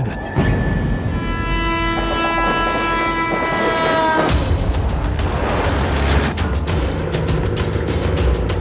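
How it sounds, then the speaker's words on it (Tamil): A movie train slows as it nears a station in a Tamil action film scene. Shrill sustained squealing tones ring out first, then give way to a loud, heavy rolling rumble with rhythmic thuds. "ஸ்டேஷன் லிமிட் நெருங்க நெருங்க ட்ரெயின் ஸ்பீடும் ஸ்லோ ஆகிடும்"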